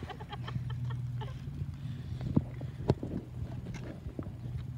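A horse moves about at a cross-country eventing start box, with hoof clops and shuffling under a steady low hum, plus a few sharper knocks, outdoors at a competition.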